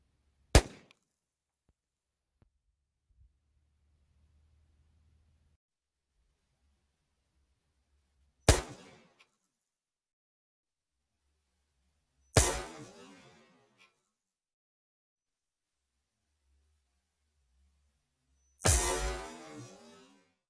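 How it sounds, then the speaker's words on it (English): Four sharp gunshots from a Ruger PC Charger 9mm pistol fired at a beetle on the ground at an outdoor range, spaced several seconds apart, each loud and crisp with a short decaying tail, quiet between shots. "I think I'm going to shoot him, see how good this red dot is."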